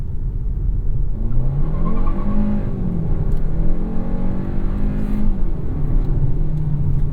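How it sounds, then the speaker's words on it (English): A 2026 Kia K4 Hatchback with a small turbocharged engine accelerating hard, its engine note climbing steadily through the revs as a loud, continuous whirring drone heard from inside the car. "It's just a little motor that makes power with the help of a turbo."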